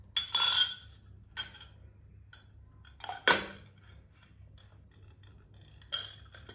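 A spoon dropped into a cup fitted with a wooden cap, heard as a few separate bright clinks and rattles spaced several seconds apart, close and clear against a quiet room.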